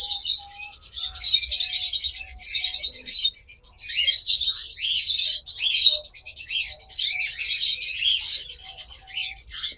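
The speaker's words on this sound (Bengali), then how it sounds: "দেখুন চমৎকার রেড আই লুটিনো ফিশার জোড়া।" Red-eye lutino Fischer's lovebirds chirp steadily and busily, a dense run of bright overlapping tweets and calls from a pair close by, with a few soft lower notes underneath and no talk.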